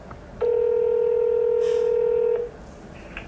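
A single steady telephone dialing tone sounds for about two seconds, clear and close, with a faint click as it ends.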